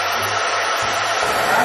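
A handheld blow dryer drying a hair wig, running steadily and loud from start to finish with a broadband rush and low motor hum that shifts slightly partway through.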